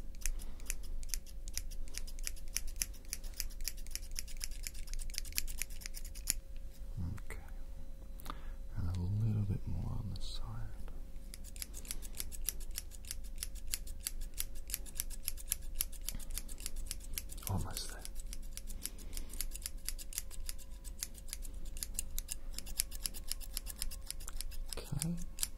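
Barber scissors snip hair rapidly and continuously close by, a dense run of crisp metallic clicks, pausing briefly midway while someone speaks quietly.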